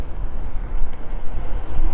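Steady, loud, roaring wind buffets the microphone while a motorcycle is ridden along a highway, with no speech.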